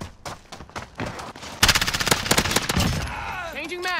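M13 rifle fire in a video game shooter, rapid bursts of close gunshots in quick rhythmic succession, loudest in the middle, with a gunfire echo and fading whine at the end.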